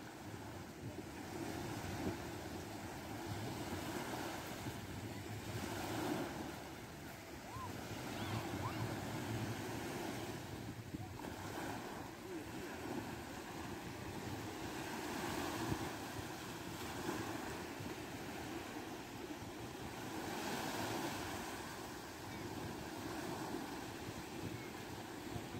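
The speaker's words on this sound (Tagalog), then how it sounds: "dito na kami sa dagat, guys" Steady ocean surf washing onto a beach, mixed with wind buffeting the microphone, a continuous wash of noise rising and falling in slow swells throughout with no clear voices.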